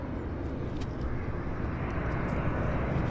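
A WestJet airliner landing at Vancouver Airport gives a steady, distant jet rumble that stays low and fairly faint, with no talk over it.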